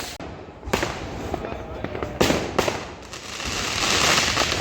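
Firecrackers and fireworks burst all around on New Year's night, a run of sharp, loud cracks and bangs over a constant crackling roar, with voices talking in the background.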